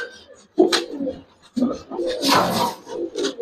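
Giribaz pigeons make low cooing calls in a loft, in short close bursts separated by brief pauses, with some bird noise rising in the middle.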